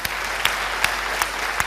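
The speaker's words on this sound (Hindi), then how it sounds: "एक बार रजत शर्मा जी के लिए जोरदार तालियां।" Studio audience at a televised mock courtroom show applauds for host Rajat Sharma, a steady wash of many clapping hands with a few sharper bursts, continuous and fairly loud.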